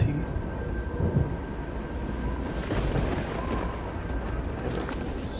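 A Storm Atronach spell rumbles with a thunderous roar in the Oblivion video game, a dense, continuous low boom that holds steady throughout, with faint crackles overhead and no talking.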